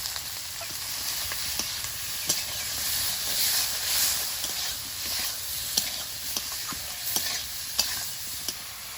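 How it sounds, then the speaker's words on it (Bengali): Spice masala with tomato, green chilli, turmeric, cumin powder and salt is stir-fried in oil, giving a constant hissing sizzle broken by regular scrapes and taps from a stirring spoon. "মশলাটা সুন্দরভাবে কষিয়ে নিয়েছি তেল ছেড়েছে"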